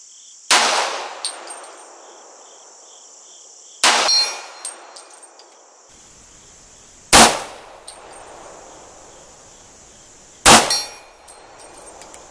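A .40 pistol fires four separate shots at a small steel silhouette target 55 yards away, roughly three seconds apart. Each loud report is followed by a bright, ringing metallic clang from the struck steel.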